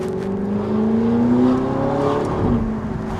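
An Audi R8 exhaust with its valves open revs from close range as heard through an open car window, a loud, steady engine drone that swells and climbs in pitch, with no voices.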